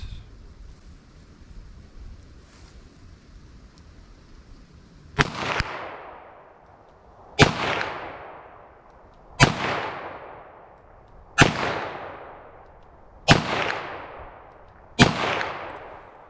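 Handgun firing .22 Magnum ammunition, Speer Gold Dot and CCI loads: after a quiet stretch, six sharp, loud cracks come at roughly two-second intervals, each followed by a brief echoing decay.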